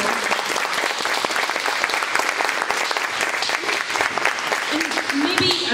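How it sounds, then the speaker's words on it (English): An audience applauds for a panel of Indigenous art curators, steady, dense clapping that fills the whole stretch without a break. "So if you can give a round of applause for these wonderful people."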